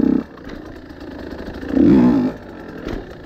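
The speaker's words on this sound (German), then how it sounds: "Ihr seht, mein Hinterrad dreht nur ein bisschen durch. Braucht auch gar nicht viel Gas." Motorcycle engine revving briefly as the rear wheel spins while the front lifts over an obstacle, a short loud burst of throttle in the middle between quieter idling and clatter, close by.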